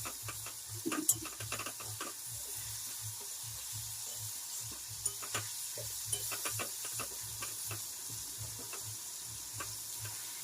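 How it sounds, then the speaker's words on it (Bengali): Fish frying in oil in a pan, a steady soft sizzle and hiss with scattered crackles and pops, alone with no talk throughout. "বৌদিভাই এখন মাছটাকে ভাজা করে নিচ্ছে"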